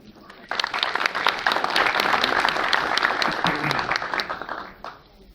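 Applause breaks out from an audience at an education forum as a speaker named Patrícia is welcomed, swelling quickly, holding dense and lively, then tapering off near the end.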